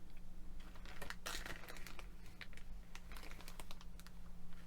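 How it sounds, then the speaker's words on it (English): Faux milky opal material with glitter and mica being cut, a quiet run of close, crisp crunching clicks in an irregular rhythm over a low steady hum. "We'll just cut this again."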